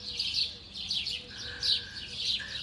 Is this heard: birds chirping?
yes